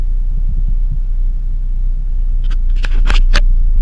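A cold car engine fitted with double platinum spark plugs rumbles low and steady at idle, then gives a few short, sharp bursts as the throttle is blipped near the end.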